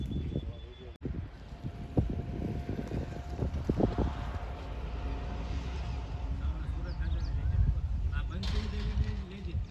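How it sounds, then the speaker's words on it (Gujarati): Strong wind on a hilltop buffets the microphone in a steady, loud roar with rumbling gusts, while people talk briefly beneath it. "અહીંની હવા બહુ તેજ આવે છે."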